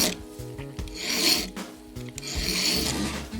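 A file rasps across the end of a small tapered clock pin to flatten it, giving two long, close, gritty strokes with a short pause between them and no talk.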